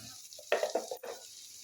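Beetroot fries in a pan with salt, turmeric and chilli while it is stirred, giving short scraping strokes and a soft sizzle that comes in a few bursts.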